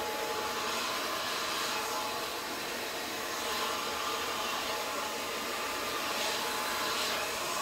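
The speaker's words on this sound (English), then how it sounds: "I guess I will try the hair dryer." A hair dryer blows steadily and loudly over alcohol ink on tiles, a constant close hiss-and-whir that holds unbroken throughout.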